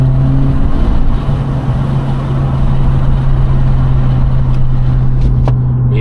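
An Acura Integra fitted with a Remark exhaust, heard from inside the cabin at low speed: a steady, loud droning hum with rushing wind noise, continuous for several seconds with no talking.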